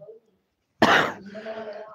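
Coughing in a classroom during a basic maths lesson: one sudden loud, harsh cough bursts out after a moment of quiet, then trails into a rougher, noisy tail with some voice mixed in.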